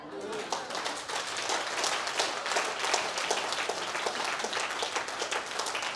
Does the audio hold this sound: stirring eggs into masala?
no